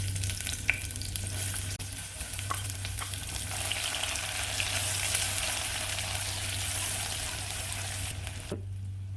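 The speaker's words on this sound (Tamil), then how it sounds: "நல்லா பொரிஞ்சதும் வெங்காயம் சேர்த்து வதக்கலாம்" Onions sautéing in sesame oil with cumin and fennel in a cooker give a steady, close broadband sizzle with a low hum underneath, cutting off abruptly near the end.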